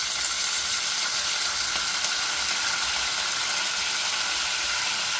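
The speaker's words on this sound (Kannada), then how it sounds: "ಇವಾಗ ಸಿಡಿಲಕ್ಕೆ ಸ್ಟಾರ್ಟ್ ಮಾಡಕ್ಕಂತ ಕರ್ಬೇವು ಹಾಕ್ಬಿಡ್ತೀನಿ" Curry leaves sputter and crackle in hot oil, a steady dense sizzle filling the pan with no break, close and loud throughout.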